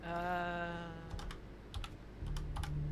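Computer keyboard without a numpad being typed on during a gaming session, short bursts of several crisp, close keystrokes separated by brief pauses, after a sustained tonal sound at the start.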